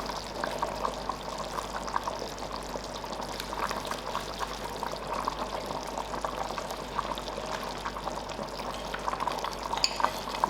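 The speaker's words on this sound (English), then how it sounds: "This is my thickening agent, so I'm gonna stir it in well" Brown onion soup mix being stirred into a quarter cup of cold water as a stew thickener, a soft steady liquid swirling and scraping, fairly quiet and continuous with no talking.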